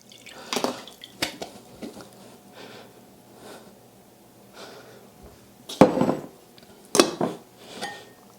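Buttermilk strains from freshly churned homemade butter, with irregular drips and splashes and a few sharp clinks of a strainer and lid against a container, close up and with no talk.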